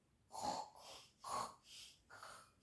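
A voice imitates snoring for a children's story, giving three slow, soft, rasping snores with breathy gaps between them, close and quiet.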